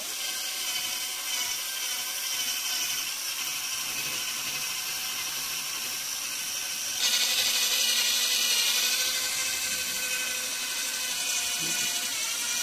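A power tool polishes scratches off a Kia Cerato headlight with a steady high-pitched whine that grows louder and brighter partway through, running continuously with no speech.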